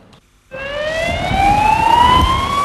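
An emergency vehicle siren wails in the aftermath of the Madrid commuter train bombing, a steady rising tone that starts abruptly after a brief quiet moment and holds loud over low rumbling street noise.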